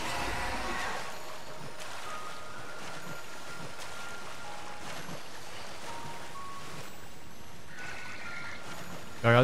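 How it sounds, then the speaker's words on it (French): A waterfall in the video game Pokémon Legends: Arceus, on Mount Coronet, gives a steady, dense rushing wash of water that holds an even level throughout with no talking. "Regardez si on peut pas aller en dessous de la cascade."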